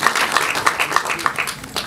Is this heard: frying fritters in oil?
no